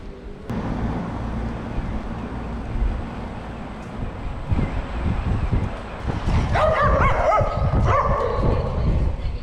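Several dogs bark repeatedly at a van's wheels, growing more excited toward the end, with yips and whimpers over a steady rumbling background.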